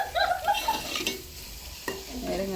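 Onions sauté in a pan at a home cooking session, with a soft sizzle beneath a couple of sharp spoon-against-pan clinks and scraping stirs, quiet and close, without talking.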